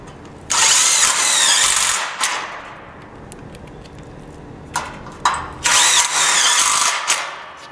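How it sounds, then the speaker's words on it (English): A power drill whirs loudly in short bursts while driving screws into the metal top rail of a backsplash wall's stud and track framing, with quieter pauses and ratcheting clicks between runs. "We're screwing into the top rail of the backsplash wall."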